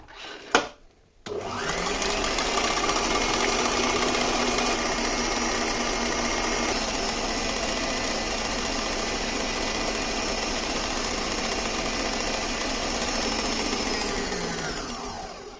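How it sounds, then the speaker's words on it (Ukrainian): An electric mixer or food processor runs at high speed whipping eggs to stiff peaks for a chocolate sponge, a steady loud whirring drone that starts after a brief click and holds evenly throughout. "Включаємо комбайн чи міксер на, високі, на високу потужність і збиваємо до хороших таких міцних піків"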